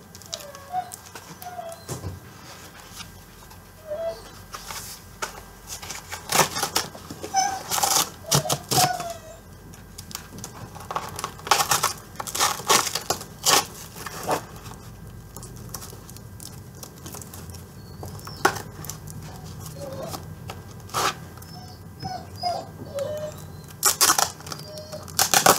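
A package packed in cardboard and a small plastic bag is unpacked, with scattered crinkling, tapping and rustling bursts coming close and irregular over a quiet room.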